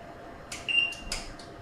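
An oven being switched on to top-and-bottom heat at 250 degrees gives a few short, faint electronic beeps with one held tone among them, close by in a quiet kitchen.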